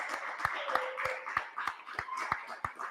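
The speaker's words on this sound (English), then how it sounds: "Give yourselves a nice round of applause." A study group at a Grade 10 maths workshop claps together in a brief round of applause, sharp evenly spaced hand claps at moderate distance over a soft murmur of voices.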